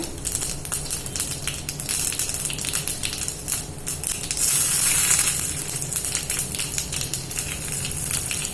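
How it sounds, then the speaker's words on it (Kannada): Dried red chillies being chopped with a knife for Tamil Nadu style tomato rasam: a close, steady run of quick crunchy cuts that continues throughout with no talking. "ನಾನಿಲ್ಲಿ ಚಾಪ್ ಮಾಡ್ಕೊತಾ ಇದ್ದೀನಿ."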